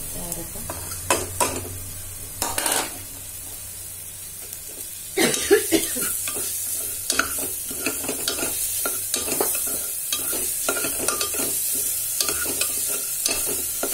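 Broad beans, rice and vegetables being sautéed for pulao give a steady close sizzle with repeated spoon stirring and scraping in the pan, plus occasional coughs and throat clearing.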